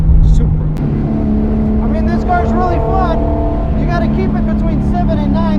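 A Toyota Supra race car engine screams at high revs on a track, a strong tonal whine that climbs and holds under someone talking over it.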